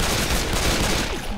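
Gunfire from Left 4 Dead 2 rattles in a dense, continuous burst of rapid shots, loud and close, with no talk over it.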